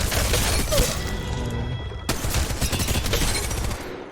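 Rapid automatic gunfire in the mobile shooter game Apex Legends Mobile, dense bursts of shots firing continuously with a brief pause midway, loud and upfront, no voices.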